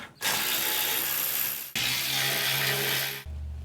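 A power ratchet on a 12 millimeter deep socket with an extension whirs in two long bursts, removing skid plate bolts under a Toyota 4Runner, loud and close.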